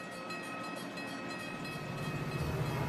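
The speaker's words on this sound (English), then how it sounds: "Emergency fuel gets passenger trains rolling again." A passenger train rolling along the rails: a faint, steady rumbling wash with a low mechanical drone beneath, heard from a distance with no voices.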